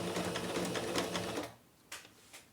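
A sewing machine stitches a decorative border on a dish towel, running fast in a close, rattling burst for about a second and a half before stopping, followed by a couple of faint clicks.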